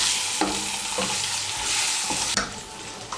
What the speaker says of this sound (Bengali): আঁচটাকে কমিয়ে ডিমগুলোকে ভেজে নেব লাল করে।